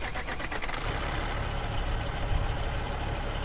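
A modded Peterbilt 389 glider truck engine in American Truck Simulator cranks and catches, settling into a steady, deep diesel idle with a strong low rumble throughout.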